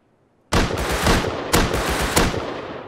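Gunfire in the survival game Rust erupts after a moment of quiet: a burst of loud, sharp shots with several stronger cracks, ringing out and fading at the end, with no voices.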